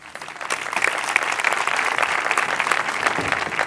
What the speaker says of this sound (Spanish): Recibimos con un fuerte aplauso a Manuel Peroles